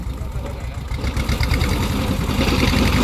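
A Hinomoto E25 tractor with a grass-cutter attachment engaged runs steadily, its engine a loud, close, continuous rumble with a rough knocking texture throughout.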